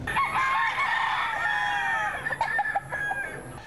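Many roosters crow over one another on a fighting-cock farm in Tacloban, Philippines, a dense, steady chorus of overlapping calls with some clucking, loud and continuous throughout.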